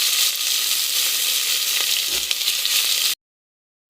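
Onions fry in hot oil with cinnamon and cloves for a vegetable biryani, making a continuous close sizzle with a faint stirring bump midway. The sound cuts abruptly to silence just before the end.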